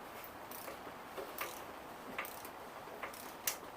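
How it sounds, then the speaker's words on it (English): Small ratchet clicking while snugging bolts on a Ford F-250 engine in a garage, faint quick ticking bursts repeating every half second or so, no talk. "Give him the small ratchet for that."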